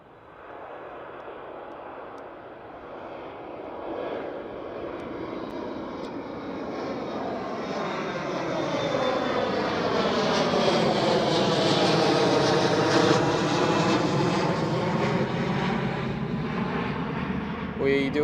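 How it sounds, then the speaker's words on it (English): A KLM Cityhopper Embraer E175 regional jet at Amsterdam Schiphol airport builds from a distant engine roar to a loud, rising, whining pass, with a sweeping, droning tone that swells over about eighteen seconds before easing slightly. "Next one up is a KLM City Hopper."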